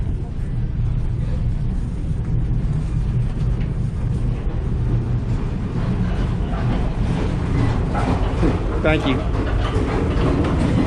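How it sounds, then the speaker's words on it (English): Alaska Railroad passenger train rolling along the tracks, heard from inside an adventure-class car as a steady low rumble with faint rhythmic clatter and a brief squeal near the end, while a voice speaks briefly. "This is the Alaskan Railroad train."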